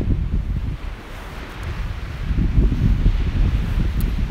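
Ocean waves washing onto a Florida beach, a steady low rumbling surge that swells toward the end, mixed with wind buffeting the microphone; no voices.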